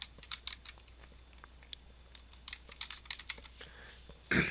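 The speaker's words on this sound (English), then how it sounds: "Let's type in Visual Studio in our search." Computer keyboard keys tapped to enter a search on a Windows computer, a quick irregular run of close, crisp clicks with short pauses, then a louder clatter at the end.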